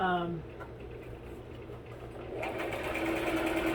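Sewing machine stitching a curtain: a steady, fast mechanical whir running through the whole stretch, close and moderately quiet, picking up slightly in intensity toward the end.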